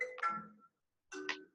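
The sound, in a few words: mobile phone ringing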